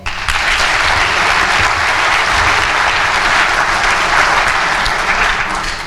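Loud, sustained applause fills a commencement ceremony hall, a thick wash of many hands clapping steadily and evenly from start to finish with no voices standing out.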